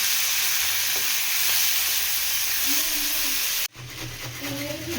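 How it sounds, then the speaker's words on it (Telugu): Onions and tomatoes fry in hot oil with a loud, steady, close sizzle that stops abruptly near the end, leaving quieter low kitchen sounds. "ఆయిల్ వేసుకొని ఉల్లిపాయలు అండ్ టొమాటోస్ రెండు వేసుకొని ఫ్రై చేసుకోవాలి"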